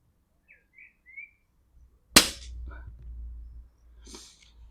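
An AirArms FTP900 air rifle fires a pellet outdoors in a hunter field target setting, a single sharp crack standing out clearly against faint birdsong, followed by a low rumbling tail and a brief breathy sound.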